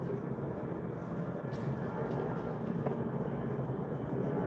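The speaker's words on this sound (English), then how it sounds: "Go away, plane." A plane passing overhead gives a steady, broad roar that fills the whole stretch at moderate loudness, with no break or clear approach and fade.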